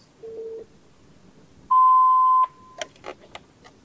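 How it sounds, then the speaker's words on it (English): Flyingvoice IP phone paging tone after pressing the paging button: a short soft beep, then one loud steady beep lasting under a second, followed by a few faint clicks in a quiet room. "First, press the paging button."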